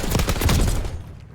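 Rapid burst of gunshots during a Search and Destroy video game match, a loud dense volley that fires off quickly and then fades out.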